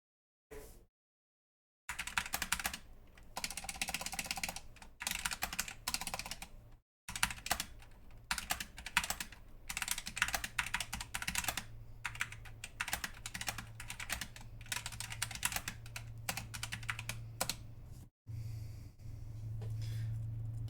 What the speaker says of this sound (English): Why don't I just do a quick little typing test?